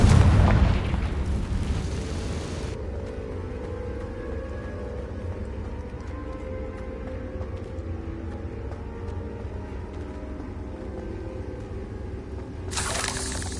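A Confringo blasting spell in Hogwarts Legacy erupts in a loud opening boom, then a long rumbling roar that stays steady before a second swell near the end, with no talking.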